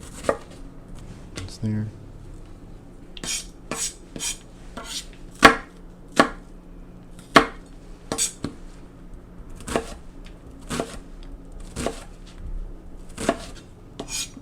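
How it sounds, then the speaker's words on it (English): A knife chopping an onion on a cutting board, about fifteen sharp, evenly spaced taps close by, with a brief spoken word partway through. "got your onion all chopped up"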